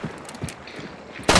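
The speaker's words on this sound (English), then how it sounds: "Oh, yep, shooting." Rapid gunfire from the video game Hunt: Showdown, several sharp cracks in quick succession with a loud close shot bursting at the end.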